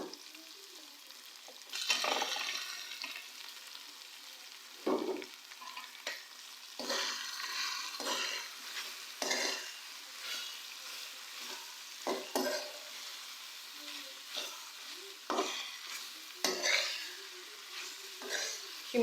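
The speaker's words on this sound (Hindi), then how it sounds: "शिमला मिर्चों को हम लोग अच्छे से मिक्स करेंगे" Browned minced meat and chopped bell peppers are stirred in a pan, an ongoing sizzle punctuated by repeated scraping strokes of a spatula at irregular intervals over about nineteen seconds.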